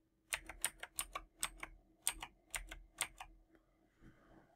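Keys on a Windows computer keyboard are tapped in a quick, uneven run of about nine crisp clicks, close and alone in a quiet room, ending with a few fainter taps.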